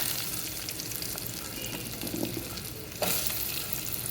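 Raw mango pieces frying in a tempering of oil with turmeric, a close, continuous sizzle with a brief sharp burst of spitting near the end.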